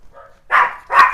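Neighbours' dogs bark nearby: a faint yelp first, then two loud, sharp barks in quick succession, heard alone without talk.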